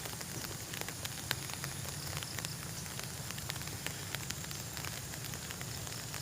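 Steady rain patters and crackles on a surface at a pineapple planting, with scattered sharper drops ticking through a continuous wash of noise.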